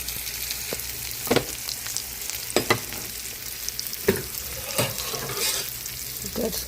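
Tomato sauce for rigatoni cooks down in a pan, sizzling and bubbling steadily while a utensil stirs it with occasional sharp scrapes and taps, close by and with no one talking.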